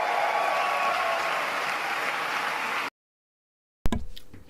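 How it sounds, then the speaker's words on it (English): A campaign rally crowd for the Ontario Liberals cheers and applauds in a dense, sustained roar of clapping. It cuts off into silence, followed by a brief loud burst at the end. "They're shouting, they're cheering"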